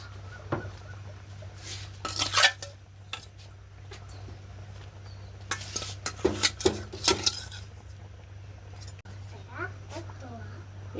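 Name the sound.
adding fish to a cooking pot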